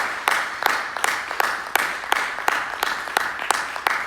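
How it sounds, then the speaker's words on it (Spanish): A church congregation applauds together in a steady rhythmic clap, sharp regular beats about three per second, loud and close and filling the whole stretch. "denle fuerte ese aplauso a la gloria del Señor en esta hora"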